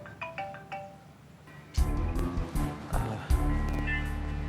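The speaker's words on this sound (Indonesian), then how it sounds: "ini ada telepon nih penting kayaknya ya" Phone ringtone ringing, a melodic electronic tune that starts faintly, then plays louder with a beat over a low rumbling background, close.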